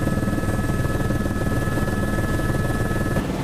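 Helicopter flying toward a landing pad near Mendenhall Glacier, heard as a steady, close, loud rotor thrum with a constant engine whine, unbroken throughout.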